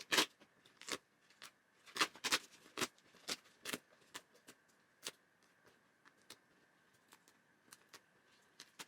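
Two plies of Walmart craft foam being peeled apart, a series of sharp crackling tears and snaps in uneven bursts, louder at first and then tapering into sparser, fainter pops.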